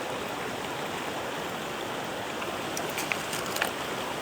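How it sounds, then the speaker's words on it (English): Water boiling in a pot on a camp stove in the White Mountains, a constant dense hiss and rumble of bubbling heard up close, with a few light clicks near the end. "It looks like it is boiling, and it is."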